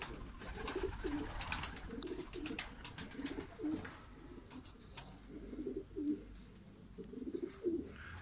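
Hünkari ornamental pigeons coo in a repeating low rolling pattern, several birds overlapping at moderate distance, with faint chirps and background clatter in a loft.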